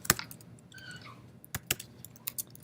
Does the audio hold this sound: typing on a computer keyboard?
yes